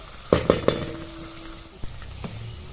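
Tempering oil in a pan with curry leaves and coriander for a dal and cabbage dry dish, three sharp crackling bursts up front followed by a faint sizzle and a couple of softer clicks, nearby and quiet.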